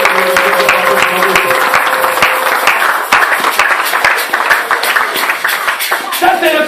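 Congregation at a Sunday church gathering in Brussels claps and cheers, a dense burst of applause that carries on loudly under a speaking voice.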